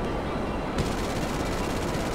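A fighter jet's cannon fires in GTA V during an aerial dogfight, a dense continuous rapid-fire roar that swells loud after a brief lead-in and holds to the end.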